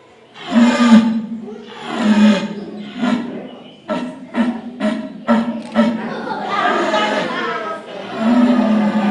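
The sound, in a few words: old red deer stag roaring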